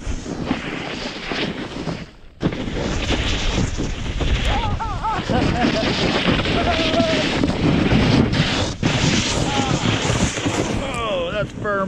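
Strong wind roars across a snowy mountain on a powder day, buffeting the microphone loudly and continuously, with a short drop near two seconds and faint voices in the background.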